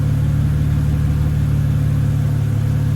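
A BMW E90 328i engine idling steadily, a loud, even low hum with a constant pulse and no change in revs.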